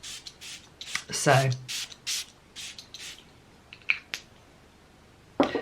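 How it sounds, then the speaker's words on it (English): A soft aromatic spray mixed with sage gives several short, quiet hissing spritzes in an uneven rhythm. One brief spoken word is heard. "this spray is a very soft spray"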